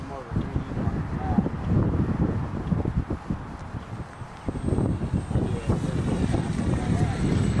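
A Parkzone T-28 RC airplane flying in 25 mph wind gusts, its steady engine drone mixed with heavy, continuous wind buffeting on the microphone throughout.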